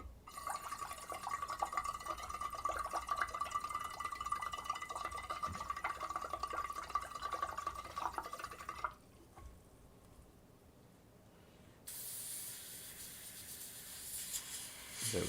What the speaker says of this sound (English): So I'm just going to back blow it into some water.